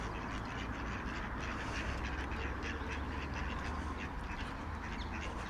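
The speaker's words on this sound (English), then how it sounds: "And the ducks, hello ducks." A flock of ducks quacks outdoors near water with swans nearby, a dense, continuous chorus of calls over steady background noise.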